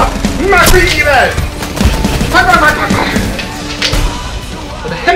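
Rapid bursts of gunfire in the VR game Pistol Whip crackle loudly, overlapping with excited talking and busy background noise throughout.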